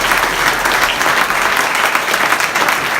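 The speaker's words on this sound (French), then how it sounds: "On peut l'applaudir également." Dense applause from a crowd at a village patronal festival in Péone, following a speech, steady and loud throughout with no pauses.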